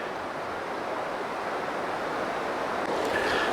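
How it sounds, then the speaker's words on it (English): River rapids in Zion National Park, Utah, heard as a continuous broadband rush of churning water with some wind buffeting the microphone, steady and fairly loud with no voices. "Here's a calm part of the river, and then going over some rapids here."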